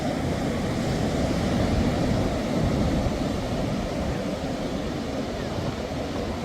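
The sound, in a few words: sea waves and wind at the beach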